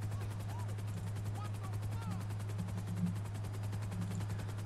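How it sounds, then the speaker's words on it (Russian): Helicopter hovering over a downtown street in GTA V Online, a steady rapid rotor chop with a low engine drone throughout and faint speech mixed in. "Над дорогой вертолеты в центре города."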